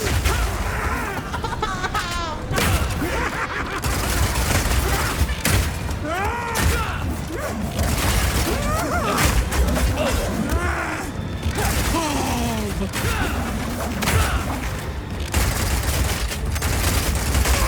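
A mercenary in Path of Exile 2 fires Piercing Shot volleys: dense, rapid bursts of gunfire-like impacts and thuds over busy game effects, loud and continuous.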